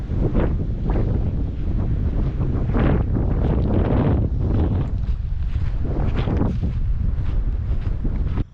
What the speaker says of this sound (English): You probably can't even hear me over that wind.